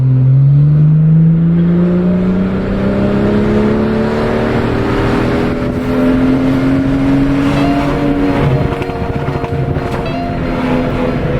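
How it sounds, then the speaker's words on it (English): A BMW F30 340i with a Bootmod3 stage 2 tune burbles on the overrun, its exhaust droning with shifting engine tones while crackles and pops sound close and loud throughout, with no talking. "It's pop, pop, pop, pop, pop, pop."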